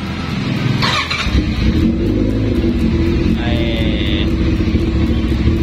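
A Kawasaki ZX 1100 motorcycle engine with a replica Ducati speedometer fitted cranks and fires up, then settles into a loud, steady running rumble with throttle blips, close by and with no talking.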